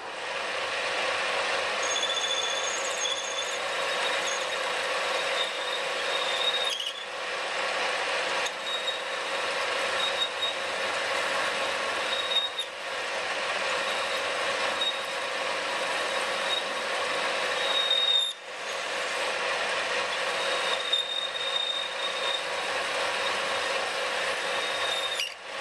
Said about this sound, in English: Now the second procedure is called parallel turning. That's where we're going to reduce the diameter of the workpiece.